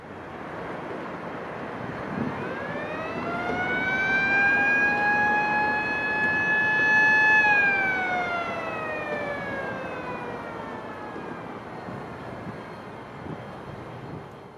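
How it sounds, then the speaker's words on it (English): A vertical lift railroad bridge's warning siren sounds before the span lowers, on the Indiana and Louisville line. It is a loud, sustained wail that rises in pitch, holds steady, then slowly falls and fades, alone over light wind noise. "that siren meant it was going to be lowering and a train would be coming across"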